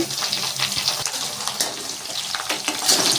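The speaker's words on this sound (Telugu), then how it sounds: "ఉల్లిపాయలు, తాలింపు గింజలు, కరివేపాకు ఇవన్నీ బాగా వేగాలి." Sliced onions, tempering seeds and curry leaves fry in hot oil for a Telugu tomato egg masala, giving a close, steady sizzle with crackles and occasional stirring, no voices over it.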